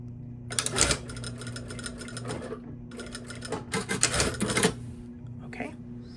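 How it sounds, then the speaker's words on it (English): A sewing machine stitches along the crease line of a welt pocket in fast mechanical bursts, starting, pausing and restarting, with a steady low motor hum underneath and some speech mixed in. "I'm going to neatly stitch right along this crease line, catching both of these ears and this pleat in place."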